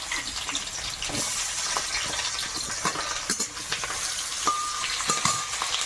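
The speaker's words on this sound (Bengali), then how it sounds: "পেঁয়াজটা একটু নাড়াচাড়া করে নিয়ে" Chopped onion frying in hot oil for a chicken dish, with a steady broadband sizzle and scattered scraping stir strokes throughout, close and fairly loud.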